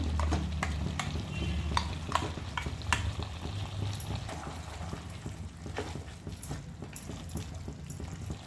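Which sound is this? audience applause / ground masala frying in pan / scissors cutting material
ground masala frying in pan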